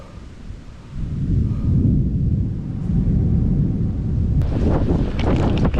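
Strong gusts of wind buffet the microphone in a steady low roar that swells and surges, with some crackling rumble toward the end, while bicycling on a trail.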